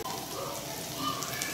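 Onions and mushrooms sizzle steadily in a hot pan, a soft continuous crackling hiss heard up close with no voices.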